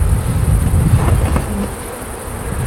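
A dense, steady buzz of many bees at a hive rises and falls slightly, close and continuous, with faint handling noise beneath.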